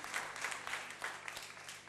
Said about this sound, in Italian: Un applauso anche a Martina.